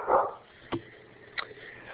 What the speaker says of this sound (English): I'm going to quickly get my dog away from the door so she stops barking.